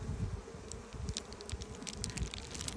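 Honey bees buzz around open hive boxes in an October apiary, a faint, continuous low drone with scattered higher wingbeat whines from individual bees passing close.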